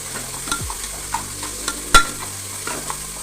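Salted drumstick (moringa) curry sautés in a pan with a soft, steady sizzle. Light stirring clicks are scattered through it, with one sharper knock in the middle.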